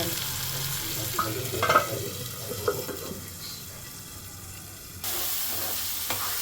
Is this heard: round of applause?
no